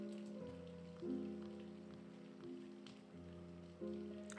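Steady rain falls in the video game If On A Winter's Night, Four Travelers, a soft continuous hiss sitting beneath louder sustained musical tones for the whole stretch.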